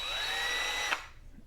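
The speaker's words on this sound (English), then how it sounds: "So if we push it in on this side, that's going to put our drill into reverse." A Craftsman CMCD700 cordless drill runs in reverse with a steady high motor whine that cuts off about two-thirds of the way through, leaving quiet room tone.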